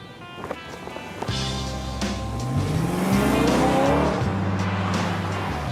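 A Toyota Prius and a BMW V8 driven hard around a race track, with a loud, steady engine drone that rises in pitch as the cars accelerate, plus some tyre noise.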